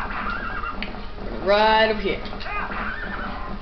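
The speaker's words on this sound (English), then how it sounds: "I'm gonna need the horse call. Just jump on the horse." A horse in Zelda: Twilight Princess gives a loud, shrill whinny with falling pitch, followed by a shorter second call. Someone talks briefly, and steady game background noise runs underneath.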